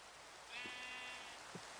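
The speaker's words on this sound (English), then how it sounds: "My sheep escaped." A sheep in a video game bleats once in a drawn-out, wavering call, followed by two soft thuds, all quiet and alone over faint background noise.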